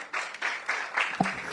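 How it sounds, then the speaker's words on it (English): Audience applause at an awards event in Ghana, a brief burst of clapping rising and falling over about a second and a half, with a voice briefly heard over it. "Please give him a round of applause."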